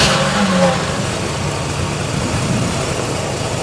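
A car engine runs steadily at idle during a battery charging-system test, a loud, close, continuous rumble with no speech over it.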